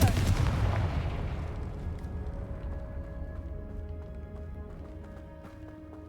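A loud Confringo spell blast in Hogwarts Legacy opens with a booming explosion that decays into a long rumbling tail with scattered crackles and debris sounds.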